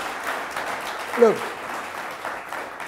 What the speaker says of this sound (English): And I think that deserves a better round of applause.